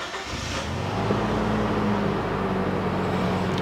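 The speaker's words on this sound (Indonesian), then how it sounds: "Saya akan nyalakan mesinnya." A 2007 Toyota Kijang Innova 2.0 V engine starts and settles into a steady, mid-pitched idle hum, heard close up with no voices over it.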